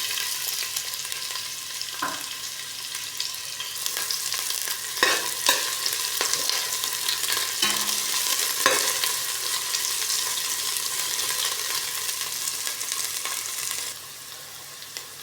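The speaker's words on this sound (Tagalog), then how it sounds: "lagyan natin sangkap guys sa luya. Tapos sabay natin yung sibuyas" Ginger and onion sautéing in a pan for a squid, carrot and chilli stir-fry, a steady loud sizzle with scattered spatula clinks and scrapes, tapering slightly at the end; no talking.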